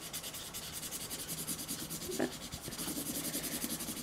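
A CG7 marker rubs steadily across paper while coloring the lightest section of a Fortnite skin drawing, giving a soft continuous scratchy stroking close up, with no talking.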